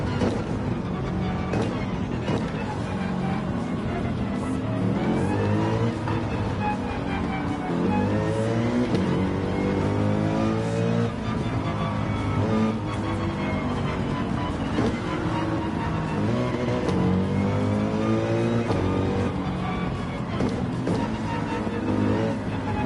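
A Mercedes race car engine in a racing video game revs steadily and loudly, rising and falling through repeated upshifts around 6,700 RPM, with continuous drone and gear-change sweeps over the whole stretch.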